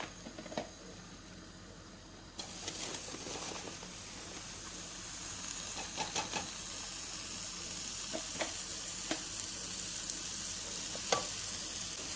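Mushrooms sizzle steadily in a pot for mushroom soup, a constant crackling hiss broken by sharp clicks and scrapes as a utensil stirs them.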